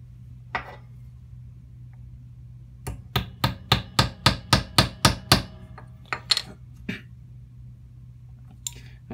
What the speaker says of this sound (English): I'm gonna take these nails, I'm gonna put them in the blocks for both a hook and for both the pulley part